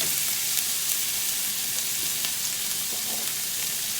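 Onions browning in a hot pan for a vegan pumpkin soup give a steady, close frying sizzle with a dense crackle throughout and no talking.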